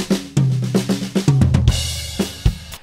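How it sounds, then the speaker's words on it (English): Drum kit performance in a mixing session featuring a tom fill: sharp hits build into booming, descending tom strokes, followed by a crashing cymbal wash and a couple of further hits, close and punchy, no talking. "we've got a drum performance which includes a tom fill which sounds like this"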